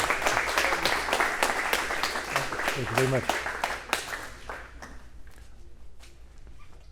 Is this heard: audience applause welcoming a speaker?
yes